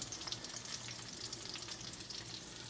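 Battered frog legs frying in hot grease in a skillet, a steady dense sizzle with crackling pops, close and alone without any talk.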